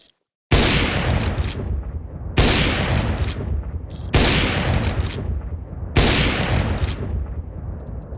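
AWP sniper rifle in Counter-Strike 2 fires four loud, booming single shots, each about two seconds apart with a long echoing tail, no talk.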